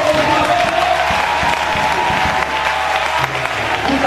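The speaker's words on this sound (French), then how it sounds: "Applaudissons." Loud applause from a church congregation at a faith gathering in Impfondo, a thick wash of clapping with some crowd noise and faint voices mixed in, sustained throughout.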